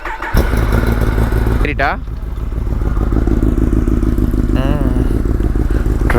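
Kawasaki ZX-10R superbike engine droning loudly and steadily throughout a ride with a pillion passenger, pitch rising in a couple of gear-change sweeps, while people talk over it.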